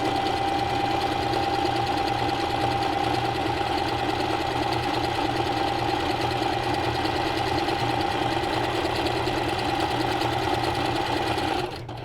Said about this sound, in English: I'm going to go forward, do a little back stitch, and then I'm going to go all the way across to this opposite corner.